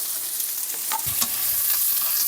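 Steady sizzling of cut bacon stir-frying in a pan, with a few soft scrapes and stirs under the constant hiss.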